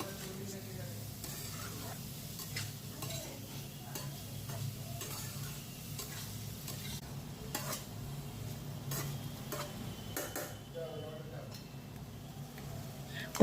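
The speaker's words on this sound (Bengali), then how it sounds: "এই পনির আর আলু আর ক্যাপসিকাম একসাথেই ভেজে নেব।" Paneer, potato and capsicum fry together in a hot pan, giving a steady sizzle with scattered stirring clicks and scrapes over about thirteen seconds, with soft background voices now and then.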